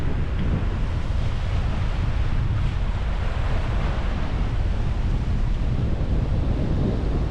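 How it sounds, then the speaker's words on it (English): Strong wind roars across a marina during a storm with gusts near 30 mph, waves and surf washing steadily beneath it in a loud, continuous wash with no letup. "Still really windy. It's 30 miles an hour right now."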